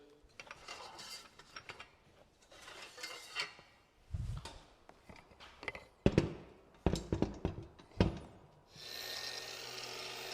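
Metal brackets for a miter saw are pulled off a Harbor Freight saw stand, giving a series of scattered clanks, rattles and scrapes of metal on metal, close and moderately loud, with a sharper knock or two near the end.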